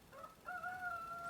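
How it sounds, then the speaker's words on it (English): A rooster crows once, a drawn-out rising call somewhat distant, over quiet outdoor background. "The roosters are going crazy"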